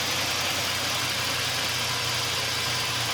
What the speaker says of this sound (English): Oh, it's idling down some more.